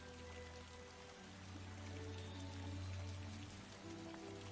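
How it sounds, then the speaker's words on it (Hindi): Rain falling in a cartoon scene, a steady wash of patter and drops under a low tonal music bed, with no voices. "क्या हुआ? आप बारिश में उड़ नहीं सकती?"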